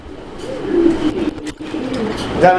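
Low, rolling cooing of a pair of fancy pigeons murmurs steadily through the clip, with a burst of higher bird chatter near the end.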